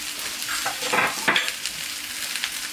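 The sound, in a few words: garlic frying and being stirred in a pan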